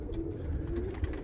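Roller pigeons in a loft coo softly, a low steady murmur of several birds with one brief louder note near the end, no talk over it.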